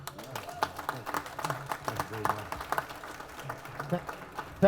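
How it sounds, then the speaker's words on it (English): Applause for a state senator at a library ribbon cutting in Fanwood, a crowd clapping steadily in a room with a few voices mixed in underneath. "please give a nice Fanwood applause to Senator Nick Scutari"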